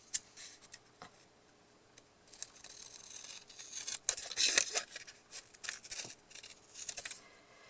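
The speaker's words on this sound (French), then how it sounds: "je vais venir le couper également. Donc je vais prendre les ciseaux" Scissors snip through excess paper on a 7-pocket craft booklet, with a few quiet cuts and small ticking handling noises scattered over several seconds, closest and busiest near the middle.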